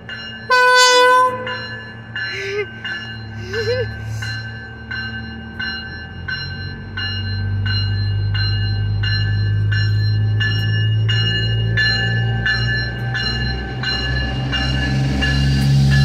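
A train departs Santa Rosa station. A bell clangs steadily and a horn sounds briefly, while the rumble of the rolling cars builds and stays loud, with no voices.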